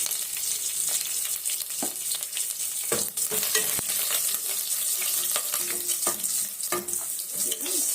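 Crushed garlic and curry leaves fry in hot oil in a pan for a radish and lentil sambar, giving a steady close sizzle with intermittent stirring clatter and no talk.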